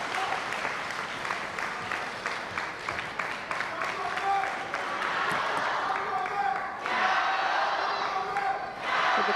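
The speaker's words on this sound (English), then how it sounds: "With the crowd cheering for Team China." Crowd at a women's doubles table tennis match in the 2021 ITTF event claps and cheers steadily, swelling louder toward the end, under a commentator's voice.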